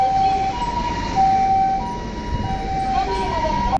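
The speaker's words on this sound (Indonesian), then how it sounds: "ini ada mobil" A toy ambulance's siren wails in alternating two-tone steps, steady and fairly loud throughout, with a faint background hum underneath.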